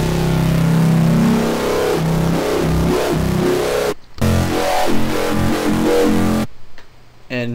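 Distorted bass patch built in Native Instruments Massive: a thick, growling, wobbling synth bass, loud and close, with brief abrupt gaps and a choppy ending, and no voices.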